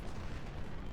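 Cannon artillery fire from the Ultimate General: Civil War video game, Malvern Hill battle, forms a dense, continuous booming rumble that fills the whole moment at steady loudness.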